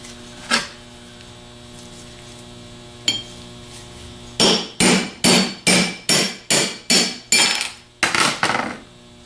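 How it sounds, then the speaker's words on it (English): A bushing driven into a nose piece with a hammer striking a 3/8 medium extension: two isolated taps, then a rapid series of about ten loud metallic blows over a steady background hum. "We're using a 3/8 medium extension to drive the bushing and reinstall the bushing out of the nose"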